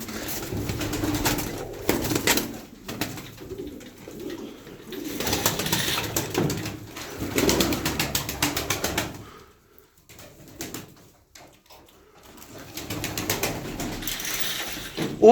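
Pigeons coo and shuffle close by in a coop, with soft rustling and brief flutters that fade to near quiet before resuming.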